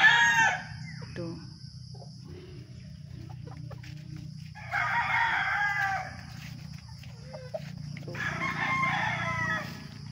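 Fighting roosters crow several times, loud and close, with long drawn-out calls separated by pauses and a low murmur of background noise.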